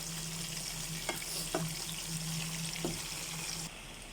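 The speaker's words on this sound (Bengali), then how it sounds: "দিয়ে দিছি ফ্রাই।" Food fries in a pan with a quiet, steady sizzle, a low hum beneath and a few soft knocks of a utensil, fairly faint and without talk, the hiss dropping away near the end.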